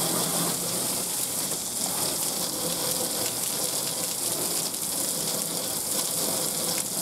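Web dissolver sprayed from a hose-end sprayer to wash spider webs off an outdoor wall, giving a steady, close rushing hiss of water spray that runs unbroken with no talk.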